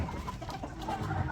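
A rooster clucks close by in a short, steady run of low calls against outdoor background noise.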